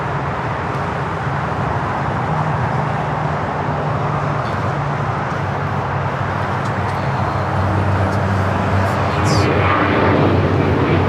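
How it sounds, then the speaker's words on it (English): Qantas Boeing 787 Dreamliner landing on runway 25 left at LAX, a sustained jet rumble with a low engine hum that swells slightly toward the end, and faint voices now and then. "You have Qantas Flight 15, the Dreamliner from Brisbane, about to touch down on 25 left."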